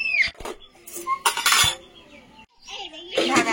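Metal stand and tiffin box set down inside a wok over boiling water, giving a few sharp clinks and clatters with quiet gaps, close by, alongside faint background voices.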